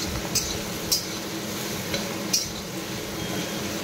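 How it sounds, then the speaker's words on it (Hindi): Large sliced onions fry in a pan with a low, steady sizzle, broken by a few light clinks of a spoon against the metal, close and quiet. "एबे पियाज को भल भाबे भाजी नबा"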